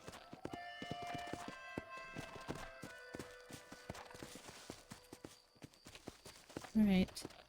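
Horse hooves clip-clop steadily through a Red Dead Redemption game scene, a regular walking rhythm of close, moderate hits over game ambience, with a sudden louder burst near the end.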